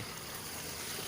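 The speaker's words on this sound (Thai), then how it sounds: "นี่เสียงน้ำไหล" Water flows at a rural fishing spot where snakehead lines are set, a steady broadband rush with no distinct pulses and no talking.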